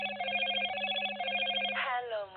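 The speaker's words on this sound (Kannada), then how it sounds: "ಸಾರಿ ಫಾರ್ ಡಿಸ್ಟರ್ಬೆನ್ಸ್, ಸ್ವಲ್ಪ ಫೋನ್ ಬಂತು" A phone rings through a pulsing electronic ringtone during a classroom lesson, a steady repeating tone for about two seconds that breaks off abruptly, fairly quiet, with no talk over it.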